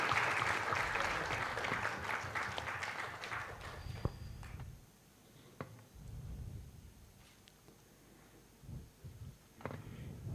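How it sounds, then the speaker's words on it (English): Applause from a conference audience at a product leaders event in India, a dense wash that swells early, fades after a few seconds and leaves quieter room noise with scattered faint claps. "Can we have a huge round of applause and let's keep encouraging the folks."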